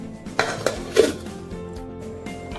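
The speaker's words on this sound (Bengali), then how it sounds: "গ্যাস অন করে নিলাম, কড়া চাপিয়ে দিলাম।" A metal wok set down on a gas stove, with a few sharp clanks and clatters of cookware close by in a quiet kitchen.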